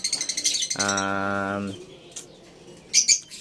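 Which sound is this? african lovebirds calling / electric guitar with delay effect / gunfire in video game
african lovebirds calling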